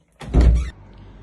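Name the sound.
door opening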